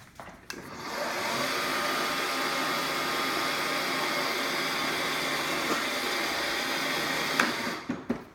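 An Ego LM2102SP electric self-propelled lawn mower's motor whines steadily at its lowest speed for several seconds, starting up and winding down at the ends, fairly close and even in level.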